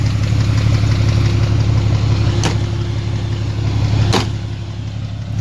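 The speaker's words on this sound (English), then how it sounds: "The engine does run good, and as I'll demonstrate in a minute, but it does make this knocking noise." Car engine running steadily at idle up close with a persistent knocking fault, a continuous low mechanical drone with two brief sharper taps standing out.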